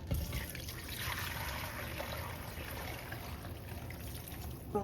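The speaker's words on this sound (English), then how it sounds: "now I'm gonna add the broth" Pozole broth pours into a cooking pot in a steady, soft liquid rush and trickle, continuous and close but low in level.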